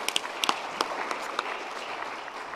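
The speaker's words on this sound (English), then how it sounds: "Please, another round of applause for our first round of speakers." Moderate applause from a conference audience for a panel of speakers on sustainable plant production, with scattered distinct claps over a steady wash of clapping, somewhat distant and without speech.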